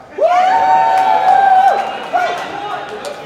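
Convention audience at an improv D&D show, mostly men, bursting into loud cheering and whooping. A sharp onset leads into sustained yelling that fades, then a second swell of voices rises near the end.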